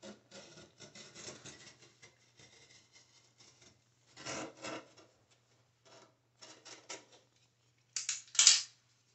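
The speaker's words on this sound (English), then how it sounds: "This utility knife." A utility knife slicing around the trim of a bathroom vanity during removal, giving faint, intermittent scraping and rasping strokes in short bursts, with a sharper, louder cut near the end and no talking.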